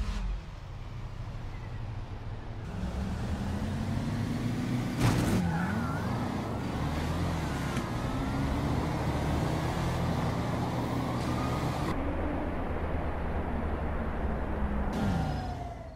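Cars launch off the line in a GTA 5 street race; loud, sustained engine roar climbs in pitch as they accelerate, with a sharp burst around the fifth second and a steady drone throughout, no talking.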